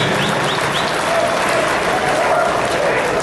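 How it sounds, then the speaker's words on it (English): A crowd at a livestock sale gives a hearty round of applause, steady and close throughout, with a few whistles rising above the clapping near the start. "he needs a round of applause before we go any further"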